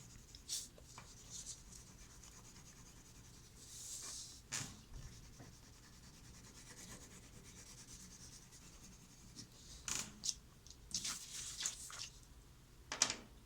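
Colored pencils scratching on paper in cross hatching strokes, faint soft rubbing with scattered louder bursts of scribbling, close and quiet with no talk.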